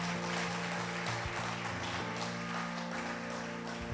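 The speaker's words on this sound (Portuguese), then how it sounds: "Dá uma salva de palmas para Jesus." A church congregation gives a round of applause for Jesus, a dense wash of clapping over sustained keyboard chords, fairly soft and continuous for the whole stretch.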